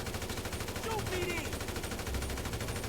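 Rapid bursts of unmodded GTA 5 gunfire rattle under a steady noisy background, game weapons firing in quick succession.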